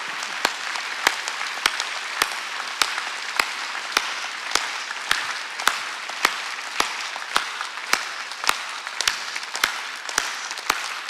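Church congregation clapping in unison during a Korean sermon, a steady rhythmic beat of sharp claps roughly twice per second, continuous and fairly loud with no speech over it.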